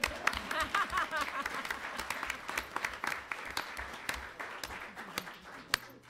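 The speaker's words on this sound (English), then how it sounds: "We can clap for that." Audience at a school board meeting claps for a teacher called to the podium to receive an award, a moderately distant, steady patter of hands with a few sharper individual claps standing out.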